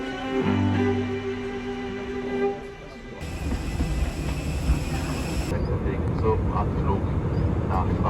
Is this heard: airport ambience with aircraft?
yes